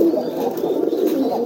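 Brooding pigeons cooing close by, low soft throaty coos rolling continuously under a faint high background hum.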